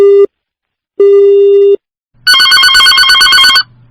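A telephone plays network tones when the called phone is switched off: two loud steady beeps separated by silence, then a rapid warbling trill, all clear with no talk.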